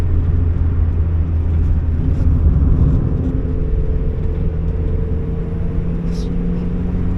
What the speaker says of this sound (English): So crazy being able to accelerate in a turn and it just grips and goes.